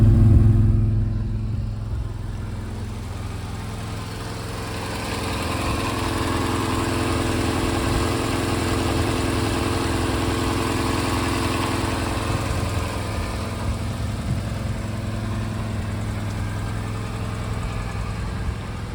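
Idling engine of a 1991 Alfa Romeo 115 Spider Veloce S4 in a garage, a steady low rumble that holds at an even, moderate level throughout with no talk.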